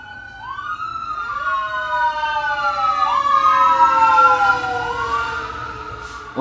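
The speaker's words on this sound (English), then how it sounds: "you weren't expecting a siren sound, weren't you?" Wailing sirens layered over one another, several rising and falling sweeps overlapping in a loud, close stretch that swells in the middle and eases toward the end.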